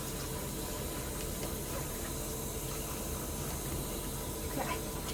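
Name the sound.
water filling a portable washing machine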